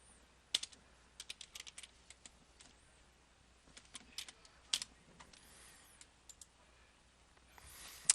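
Fingers tap on a computer keyboard in short irregular bursts of quiet clicks with pauses between them, close by in a quiet room.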